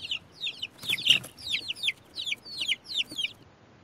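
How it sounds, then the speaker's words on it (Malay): Young chicks cheep in rapid, high-pitched chirps, repeated in quick pairs and runs, fairly close and clear, with a soft bit of background noise. "Bunyi anak ayam."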